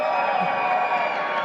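Crowd cheering and whooping at a FIRST robotics district qualification match in an arena, a steady dense roar of many voices sustained throughout at fairly loud level.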